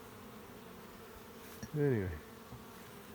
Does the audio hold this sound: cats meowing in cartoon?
no